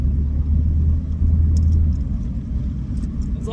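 Low, steady rumble inside a moving car on a road trip for fast food, a continuous engine and road drone with nobody speaking.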